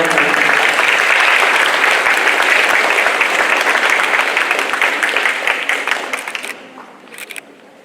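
An audience at a school award ceremony bursts into loud, dense applause that holds steady for several seconds, then thins and fades to a few scattered claps at the end.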